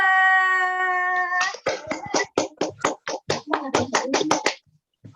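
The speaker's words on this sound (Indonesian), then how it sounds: "Beri tepuk tangan untuk kelompok 2." A classroom audience of students claps for a presenting group: about a dozen sharp, evenly spaced claps in quick succession, loud and close, following a sustained tone at the start.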